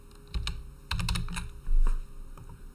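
Someone types a CAPTCHA on a computer keyboard: a few close, crisp key clicks in short bursts, then a brief louder thump and a final tap.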